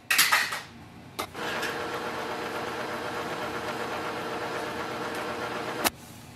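An Epson ET2700 printer runs its print head cleaning cycle, giving a steady low mechanical whir with a sharp click near the start and another near the end, with no talking.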